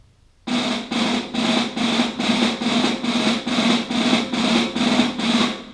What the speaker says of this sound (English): I'm going to play just a bunch of 5-stroke rolls, okay, in the concert style